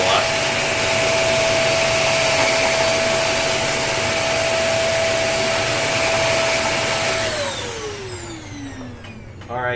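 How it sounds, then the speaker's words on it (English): A vacuum cleaner with its brush roll running on a thick doormat makes a loud steady whirring hum, then the motor winds down with a falling tone near the end. "Let me turn the brush roll on just to try to be fair, see if it changes anything."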